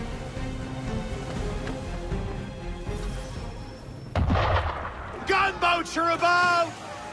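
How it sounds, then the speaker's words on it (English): Ship cannons fire in Assassin's Creed 3 during a naval encounter, with a heavy booming blast followed by rumbling impacts, under ambient sea noise and voices talking. "Why is he shooting at us?"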